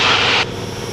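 Engine roar of a Grumman TBM Avenger aircraft just after takeoff, a loud broadband rush that cuts off abruptly about halfway through, leaving a lower, steadier drone.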